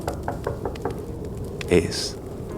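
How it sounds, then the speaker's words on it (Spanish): Soft knocking at a bedroom door: a few light, evenly spaced taps early on, followed by a brief louder thump and a faint higher sound, under quiet background. "oyóse de súbito un leve golpe, como si suavemente tocaran a la puerta de mi cuarto"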